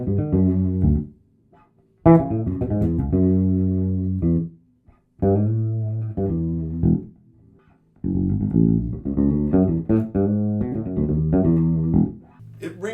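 A Sire Marcus Miller V7 fretless bass played on the back pickup alone, with the front pickup off, rings out in sustained, singing melodic phrases. Several separate runs of notes are broken by short silences.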